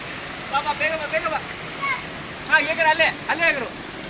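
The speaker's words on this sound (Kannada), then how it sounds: "ಇದು ಮೇಲ್ಗಡೆ ಯಾವುದೋ ಒಂದು ಡ್ರಮ್ ಅಲ್ಲಿ ನೀರು ಬೀಳ್ತಾ ಇದೆಯಲ್ಲ" Water pours from a drum overhead at an amusement water park, a continuous splashing rush under the excited voices of children and adults talking.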